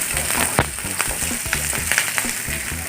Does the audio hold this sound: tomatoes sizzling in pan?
yes